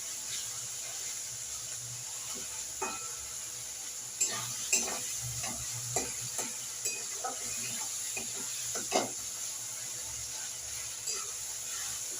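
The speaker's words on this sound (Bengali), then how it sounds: "মশলাটা ভালো করে কষাই করে নেব" A spice masala for potato curry (aloo dum) fries in a pan with a soft continuous sizzle, while a utensil scrapes and taps at irregular intervals as the paste is stirred, fairly close and without talk.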